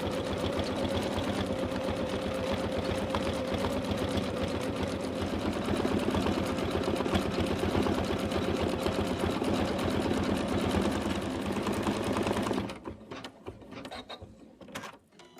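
An embroidery machine stitches rosy cheeks onto a Santa bib, giving a steady, fast mechanical whirring and rapid needle chatter that runs continuously, then cuts off near the end, leaving a few faint clicks and handling sounds.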